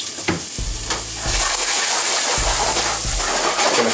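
Onions and garlic sizzle steadily in a hot pan, with a few louder stirring scrapes near the start before the frying settles into a continuous close hiss.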